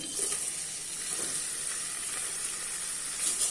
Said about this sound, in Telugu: ఇప్పుడు ఉల్లిపాయ ముక్కలు వేసుకుని ఫ్రై చేసుకుందామండి